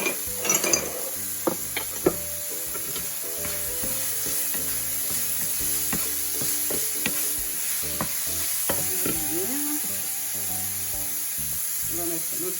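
Ground meat sizzles and fries steadily in a pan for pastels, with a spoon stirring and scraping against the metal in irregular clicks and knocks, close and continuous throughout.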